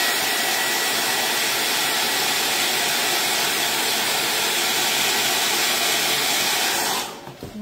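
A hair dryer blows steadily and loud for about seven seconds, drying chalk paste dabbed onto a wooden cutting board, then switches off near the end.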